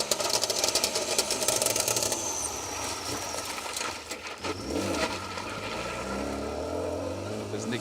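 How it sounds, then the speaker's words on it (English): A four-wheel-drive rally car at the Malcolm Wilson Rally 2024 approaches the end of stage 7, its engine rising from a faint hum to a louder drone, with a commentator talking over it. "Nick Stamper and Adrian Lloyd come through to finish the stage."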